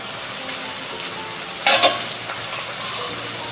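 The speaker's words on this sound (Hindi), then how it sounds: "अभी मैं इसमें डाल दूंगी ये चॉप किया हुआ टमेटोज" Steady loud frying of palak and potato rice in a pan, with a brief burst of louder sizzle and stirring as chopped tomato is tipped in, then an even crackle continuing; no talking.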